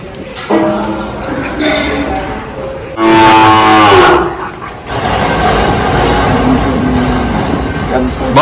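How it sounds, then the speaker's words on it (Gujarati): Cows at a large cow shelter give several loud, drawn-out moos up close, one long call standing out in the middle, while people talk over a busy background of other animals. "કેટલો અવાજ કેટલો મસ્ત આવે છે. આમ જોવો છે ગાયો આવે છે."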